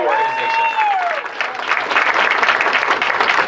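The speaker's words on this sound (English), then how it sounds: "let's give Special Olympics a round of applause" A crowd at a Sheetz store opening applauds for Special Olympics, a dense round of clapping that builds after a speaker's voice fades and continues steadily to the end.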